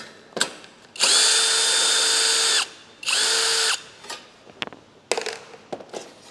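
A power tool spins off a 10mm bolt on the side of a Lexus ES300h hybrid battery, two loud steady whirring bursts of about a second and a half each, followed by clinks and rattles of handling.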